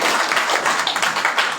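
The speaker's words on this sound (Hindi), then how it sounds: "एक बार जोरदार ताली इनके लिए भी।" Audience at a Hindu Shri Ram Katha religious discourse gives a brief burst of dense, steady applause, loud and close throughout.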